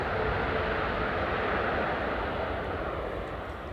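An airliner landing on Schiphol's Polderbaan runway 18R with idle reverse thrust gives a loud, broad, steady engine roar that fades slightly toward the end, heard from nearby outdoors with no voices.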